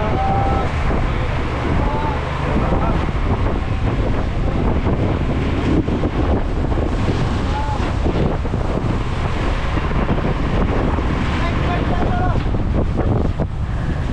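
Sea waves slap and wash against a boat's hull in rough weather while strong wind buffets the microphone, a constant loud roar with voices talking faintly underneath.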